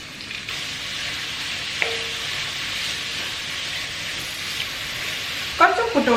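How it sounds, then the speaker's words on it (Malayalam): Sliced onions frying in oil with ginger and garlic in a pan for Kerala chicken curry, giving a steady soft sizzle with a brief clink and a burst of stirring near the end. "ആ നേരത്തെ നമ്മൾക്ക് ഇതിലേക്ക് സവോള ചേർത്ത് കൊടുക്കാം"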